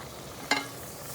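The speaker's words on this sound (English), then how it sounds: "And we're going to add our 2 tablespoons of butter." Two tablespoons of butter drop into a pan on medium-low heat, giving one brief, sharp sizzling burst that fades quickly into a quiet, faint background.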